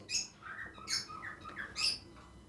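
A cockatiel breeder pair gives harsh, bright squawking calls, three prominent bursts spaced about a second apart with softer chirps between, fairly close and alone.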